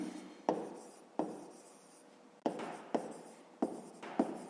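A pen scratches across paper in a run of short strokes, each starting with a soft tap and fading, quiet and close with no speech.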